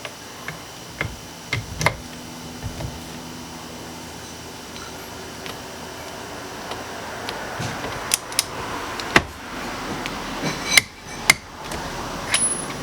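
Torque wrench set to 25 foot-pounds clicking while tightening steering wheel hardware on an Isuzu Stylus, giving sharp, separate mechanical clicks, a few louder ones near the end, over a quiet garage background.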